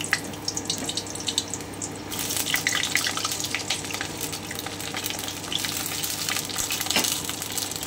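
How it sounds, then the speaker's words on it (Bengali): Pointed gourd (potol) pieces, unsalted and without turmeric, fry in hot oil with a continuous close sizzle and crackle, plus a few light clatters and scrapes throughout. "এবারে আমি পটলটা ভেজে নিচ্ছি।"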